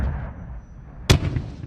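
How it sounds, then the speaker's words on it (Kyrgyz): Artillery battery fire during a military tactical exercise: one sharp, loud blast erupts after a low background rumble, followed by a short rolling echo. "Аскердик артиллериялык бөлүкчөлөрдүн батареялык тактикалык машыгуусу"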